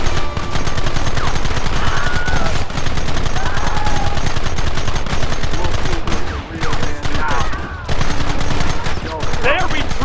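Heavy gunfire in the Western video game Red Dead Redemption, a loud continuous barrage of overlapping rifle and pistol shots with a few short pauses, while voices shout in the background.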